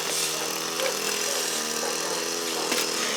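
A grass trimmer runs steadily nearby in a rural setting, a high buzzing motor whine with slight pitch wavers as it cuts, filling the moment without talk.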